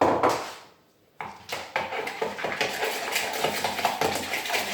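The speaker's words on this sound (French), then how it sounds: "donc on va mélanger avec notre sucre, tout simplement" Four egg yolks are whisked with sugar in a bowl for raspberry tartlets, giving brisk, rhythmic clinks and scrapes of the utensil against the bowl after a brief pause.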